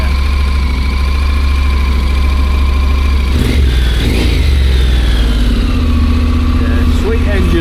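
A loud motorcycle engine idles and then revs up briefly before settling, close by and dominating the scene.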